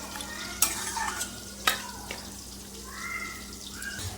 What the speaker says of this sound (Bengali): শাকটা আমার নরম হয়ে গেছে, আর একটু ভালো করে নাড়াচাড়া দিয়ে নেব।